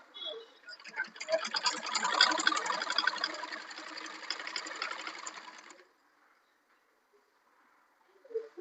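A sewing machine stitches a thin thread cord, running in a fast, steady, close-up ticking burst for about five seconds before stopping, followed by near silence and a faint sound at the end.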